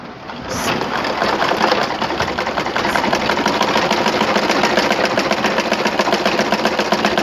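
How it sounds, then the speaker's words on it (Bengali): A sewing machine runs continuously at a fast, even stitching rhythm while sewing a Quran cover, loud and close with no pauses and no talk. "সর্বপ্রথমে আমি এটা আগে সেলাই দিব।"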